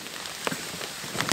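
Heavy rain pounds steadily on a surface near a lakeshore after a canoe outing, a dense broadband hiss with scattered louder drop impacts throughout, no voices.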